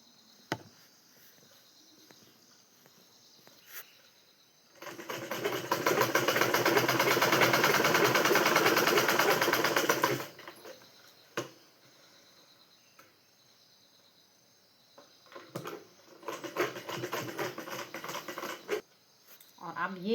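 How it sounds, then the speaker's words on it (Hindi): Sewing machine stitching the outside of a turned trouser pocket on palazzo pants, a loud steady whirring run of about five seconds, then quiet, then a shorter second burst near the end. "और अब मैं ऐसे मारूंगी इस पर सिलाई बाहर से"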